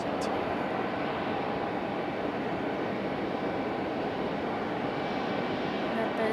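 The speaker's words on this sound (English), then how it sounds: "Aeromexico connect. 431. Embraer 190 LR headed to Mexico City." Aeromexico Connect Embraer 190 LR jet departing Raleigh Durham for Mexico City, a steady dense engine roar throughout with talk blended into it.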